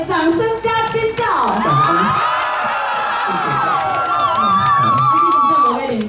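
A crowd at an outdoor evening music concert in Liuying, Tainan claps and cheers, mixed with shouts and whoops, while a voice sings or calls over the top of it.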